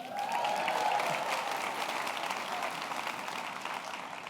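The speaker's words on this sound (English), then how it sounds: "Give an applause for them." An audience applauds new hires at a company event: sustained, fairly distant clapping from a crowd, even and continuous, tapering slightly toward the end, with faint crowd murmur and a brief whoop underneath.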